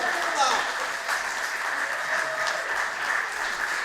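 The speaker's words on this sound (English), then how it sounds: "Round of applause, please, once again." An audience applauds performers taking a final bow on stage, even, continuous clapping at moderate volume with voices audible underneath throughout.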